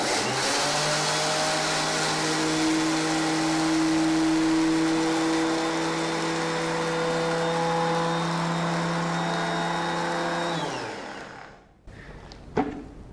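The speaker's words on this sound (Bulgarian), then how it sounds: "Затваряме блендера, пускаме и..." A blender grinds flax seeds with a steady, loud, high motor whine for about ten seconds, then spins down and stops, followed by a brief clatter.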